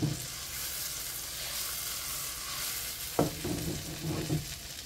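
Tomato piccata sauce sizzles steadily in a pan as capers go in, with a sharp clatter near the end and a little stirring over the constant frying hiss.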